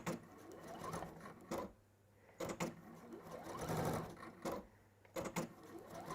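A sewing machine stitches in short bursts, running a few quick stitches at a time with brief pauses between several separate runs, close and clear.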